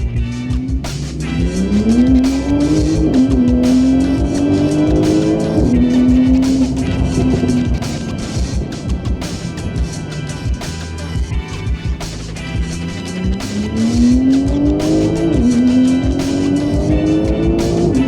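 A Porsche 911 Turbo (992) accelerates hard with a loud rising engine note through repeated gear changes, close and continuous, under constant road and wind noise; tire squeal is not clearly distinct.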